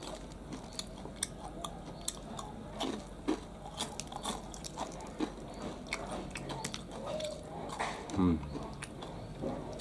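Repeated crisp crunching bites of fried chicken, close up, scattered over several seconds with chewing in between, under a soft background voice.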